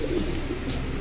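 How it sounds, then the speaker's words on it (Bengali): Silver aluminium-line pigeons kept for release flying give a continuous low cooing, fairly loud and close, in a short unbroken stretch. "সিলভার অ্যালুমিনিয়াম লাইনের কবুতরই, ছাড়াছাড়ি।"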